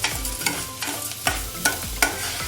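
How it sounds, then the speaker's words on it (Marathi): Bottle gourd halva with sugar is stirred in a pan over low heat, four or five firm scraping strokes of a spoon against the pan over a soft background sizzle, close and without speech. "त्यानंतर आपण त्यामध्ये घालूया साखर आणि त्याला चांगलं मिक्स करून घेऊया।"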